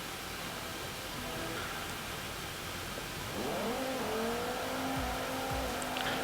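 Simulated race car in Forza Motorsport 4 accelerating toward a corner, its engine note rising then dropping as it brakes and turns in, with tire noise over a steady hiss of background noise.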